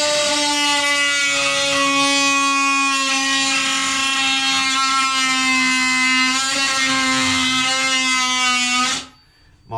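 A rotary cutting tool grinds a channel into a rusted metal tub drain, a steady loud high-pitched whine with strong harmonics that holds for about nine seconds before abruptly cutting off.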